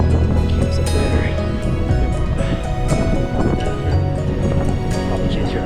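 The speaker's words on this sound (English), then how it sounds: "Probably can't hear what I'm saying 'cause it's fucking windy." Strong wind buffets the slopes of Acatenango volcano, loud gusty roaring and rushing that fills the whole clip and nearly drowns out a voice talking.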